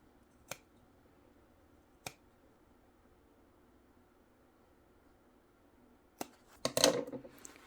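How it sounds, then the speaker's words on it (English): Scissors snipping thread close to a fabric seam while sewing a bag: two isolated crisp snips early on, then a quick cluster of louder cuts near the end, close and otherwise quiet. "Try to cut as close as you can to the thread without cutting your thread."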